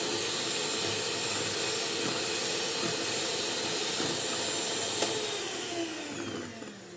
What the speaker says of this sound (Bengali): আবার বিট করে নেব।